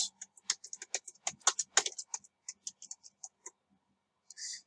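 Quick bursts of typing on a computer keyboard in hotel property management software, crisp close key clicks clustered in rapid runs, then sparse taps and a pause, ending with one brief louder click.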